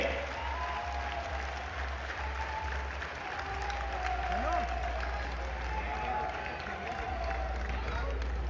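Large crowd at a religious rally in India claps steadily and loudly, a dense continuous patter with scattered voices and a low electrical hum running underneath.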